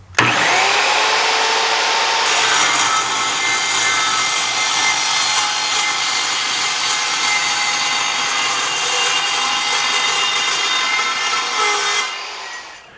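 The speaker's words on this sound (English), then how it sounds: "it cut right through that 2-inch thick wall square tube, no problem" An Evolution multi-material track saw cuts through 2-inch thick-wall metal square tube with a loud, sustained shrieking grind that starts abruptly, grows harsher after a couple of seconds and stops near the end.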